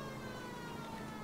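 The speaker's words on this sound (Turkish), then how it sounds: "Oğlum siren çalıyoruz hala." Police car siren in the L.A. Noire video game, a steady wailing tone heard alone and at moderate level for a short moment.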